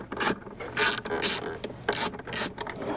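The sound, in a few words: Torx T20 driver removing bolts from LED lighting housing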